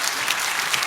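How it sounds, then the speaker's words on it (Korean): Brief burst of applause from a church congregation, a dense wash of many hands clapping at once, heard alone for under a second. "박수하겠습니다."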